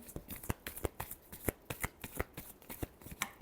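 Tarot cards being shuffled in quick, close bursts, each riffle a crisp papery snap repeating at an irregular pace with no talking.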